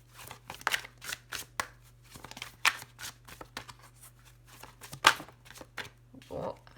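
Cards are cut and shuffled from a deck during a French-language tarot-style reading, giving a run of soft papery riffles and flicks, close and fairly quiet, with a low steady hum underneath.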